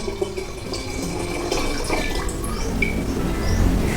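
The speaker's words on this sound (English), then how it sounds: "I'm gonna pour the rest of the kombucha from my last fermentation." Kombucha from a previous fermentation is poured into a jar, giving a steady splashing liquid stream that runs continuously and grows slightly louder toward the end, with no talking.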